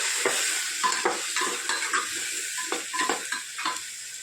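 Ground spices including chilli, turmeric and salt frying in a pan while being stirred, a steady sizzle broken by repeated rhythmic scraping strokes of a spoon.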